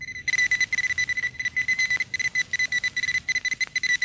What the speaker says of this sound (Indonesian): Pesawat monitor di mobilku berbunyi.